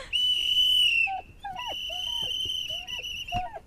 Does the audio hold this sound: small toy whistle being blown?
yes